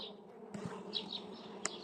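Honeybees drone steadily around a hive that is close to swarming, with a sharp click near the end.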